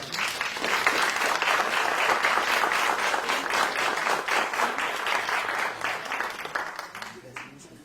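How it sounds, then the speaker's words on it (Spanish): An audience at a panel discussion on environmental remediation technologies breaks into sustained applause. It is loud and even at first, then slowly thins and fades toward the end. "les pido de favor que le brindemos un fuerte aplauso"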